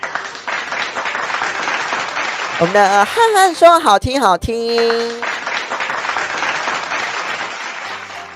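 Applause crackles steadily beneath a host chatting on a live-streamed radio show, with short tonal effects and a voice rising in the middle before the clapping carries on under continued talk.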